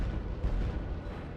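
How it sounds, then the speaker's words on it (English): Cannon fire in the Third Age Total War Reforged battle game, a continuous heavy rumbling boom filling the moment with dense low-end roar. "Those cannons combined can really do some damage to this front line."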